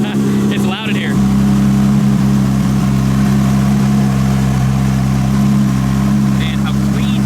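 Nissan Skyline R32 GTR with an RB26 engine and a 4-inch straight-pipe exhaust with no mufflers or resonators, droning loud and steady at close range, with voices briefly at the start and end.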